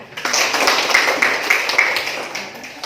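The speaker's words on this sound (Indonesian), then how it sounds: "Tepuk tangan." An audience at a classroom guidance session applauds: a lively, close burst of many hands clapping, with a few sharper individual claps standing out from the steady patter.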